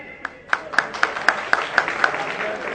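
Applause for guests at a Hindi comedy poetry event, with a series of sharp, evenly spaced claps standing out over a soft crowd murmur.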